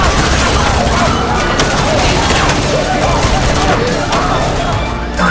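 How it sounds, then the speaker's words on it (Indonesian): Gunfire in a Korean drama scene where a student opens fire on classmates, a loud continuous fusillade of rapid shots blended with a dense action soundtrack, no clear gaps. "Yongsu ngamuk, lalu menembak Jangsu dan semua temannya."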